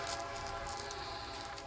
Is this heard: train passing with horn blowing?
yes